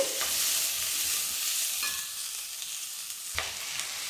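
Onions frying in a pan for a Rayalaseema-style dish, a continuous bright sizzle with occasional spoon scrapes and a sharper knock near the end, close by with no talking.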